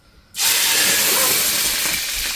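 Tomatoes dropped into hot oil for Jamaican-style steamed fish with vegetables set off a sudden loud, steady sizzle that stays strong and hissing after a quiet start.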